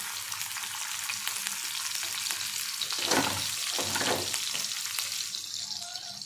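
Thinly sliced onions fry in a pan with a dense, steady sizzle; a few louder stirring swells come through near the middle, close up and without voices.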